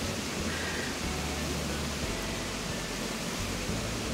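Waterfalls in Animal Crossing: New Horizons give a steady, soft rushing roar of falling water, constant and even for the whole stretch, with no voices.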